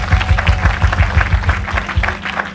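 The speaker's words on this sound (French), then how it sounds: "Est-ce que nous sommes capables d'applaudir très très fort?" A church congregation applauding loudly, with dense rhythmic clapping close and steady throughout, slightly rising and falling in strength, with faint crowd voices beneath.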